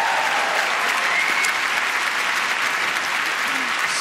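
A large audience at the BAFTA film awards ceremony applauds steadily, a dense, continuous wash of clapping that holds evenly throughout with no voices over it.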